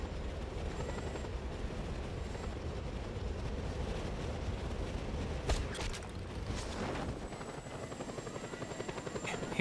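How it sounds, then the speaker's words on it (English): A helicopter in a video game makes a steady, loud rotor thrum throughout, joined by a few sharp impact and crash bursts toward the end. "And hope you don't get hit by your own chopper."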